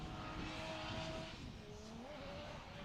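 Nissan S13 drift car with a 1JZ engine at a pro drifting qualifying event in St. Louis, engine note rising and dipping as the throttle lifts, with tire squeal over crowd and track noise, distant and steady.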